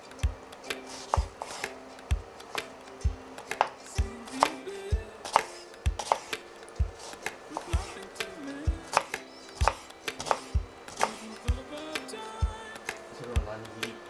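A knife coarsely minces green onions on a cutting board in regular, close, crisp chops that keep a brisk rhythm, with quiet talk in the background.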